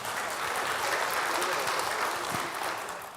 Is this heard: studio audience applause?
yes